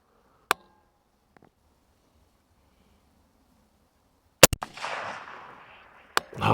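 Rifle shots at a shooting range, a single sharp report followed after a long pause by a quick cluster of loud cracks that trail into rumbling echo, then another shot at the end.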